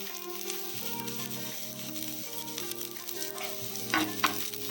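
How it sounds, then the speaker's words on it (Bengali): Chopped garlic frying on a hot tawa for pan-fried chicken momos, a steady close sizzle with stirring scrapes and a few louder crackles toward the end. "প্যান ফ্রাই করার জন্য এবার তাওয়ার মধ্যে একটু রসুন কুচি"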